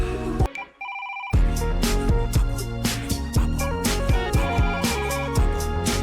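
A telephone rings briefly inside a song, a short electronic trill before heavy bass and drums kick in loudly.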